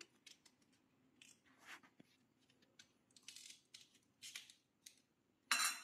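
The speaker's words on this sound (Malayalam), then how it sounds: "അതിനുശേഷം ഇത് നന്നായിട്ട് മുറിക്കുക." Knife cutting peeled raw mango into pieces for pickle: a series of faint, sharp slicing and tapping sounds close by in a quiet kitchen, irregular in rhythm, ending with a louder clatter.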